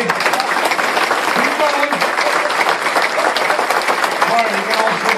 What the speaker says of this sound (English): All right, about 3 good claps. How about 20 in a row, okay?